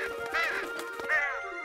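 A crow in the children's cartoon Gordon the School Bus caws angrily in a few harsh, wavering calls, close and fairly loud.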